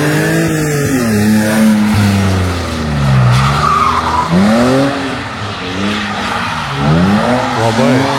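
A slalom race car slides outward through a bend with long wailing tire squeals over a loud engine, the screeches rising and falling as it skids, close and continuous.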